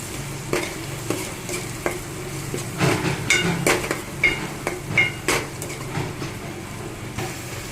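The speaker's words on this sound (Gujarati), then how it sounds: "એકાદ મિનિટ માટે આપણે આ મસાલાને પકાવી દઈશું" Spice masala with red chilli powder cooks in a pan for mixed dal, a soft sizzle under repeated spoon scrapes and knocks against the metal, close and unhurried, with no talking.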